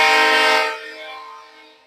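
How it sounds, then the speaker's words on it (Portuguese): Train horn blaring loud and close at a level crossing, one sustained blast that fades out over about two seconds with no talking. "Pedi para ele buzinar mais 3 vezes."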